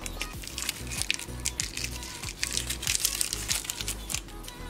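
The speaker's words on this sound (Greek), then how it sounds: "Βάζω τον κύβο μου." Crinkly wrapper of a stock cube being unwrapped for a vegetable soup with spinach, celery, onion and carrot, a quiet crackling and rustling that runs continuously with soft thuds underneath and no talking.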